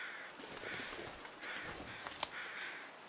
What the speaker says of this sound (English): So what are these crows going on about?